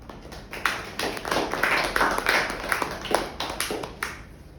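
Audience clapping at a Toastmasters club meeting: a short round of applause from a small group, close and moderately loud, with individual claps audible, fading out after a few seconds.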